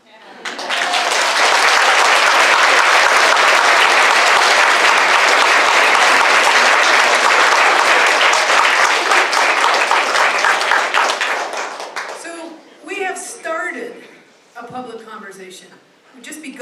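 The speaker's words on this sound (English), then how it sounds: "Can I have a round of applause for Lee?" A lecture audience gives sustained, loud applause after a talk and Q&A on gender identity and women's rights. It fades after about twelve seconds as scattered claps and voices take over.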